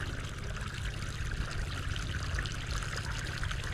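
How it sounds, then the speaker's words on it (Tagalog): Water poured steadily from a container onto plants during a watering session, a continuous splashing trickle close by with no talk. "apat yung binubuhos niya ng tubig"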